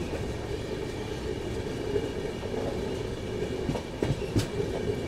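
Delhi Mumbai Duronto Express running through Dahod, heard from on board as a steady low rail rumble with faint wheel clicks, continuous and moderately loud throughout.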